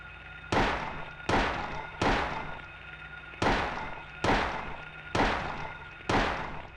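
Seven loud, evenly spaced gunshots from a handgun in the 1999 video game Silent Hill, each a sharp crack with a short decaying tail, fired alone with no talk.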